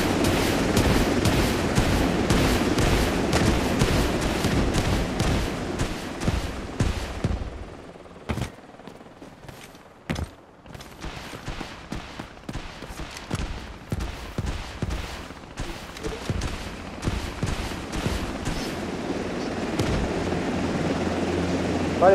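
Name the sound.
gunfire in Delta Force Mobile video game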